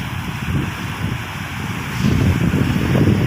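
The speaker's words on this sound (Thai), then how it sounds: "มาสัมผัสคลื่นลมทะเลเลยโดยตรงเลยนะครับ" Sea waves and wind on Kamnan beach at Chaiya in the evening as the tide comes in, a steady broad wash of surf and gusty wind noise that swells louder toward the end, with no talk.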